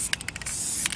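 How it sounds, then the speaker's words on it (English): Krylon spray paint hisses from a can onto a rocket in short close bursts, and one longer spray runs through the middle. "I've never used spray paint before."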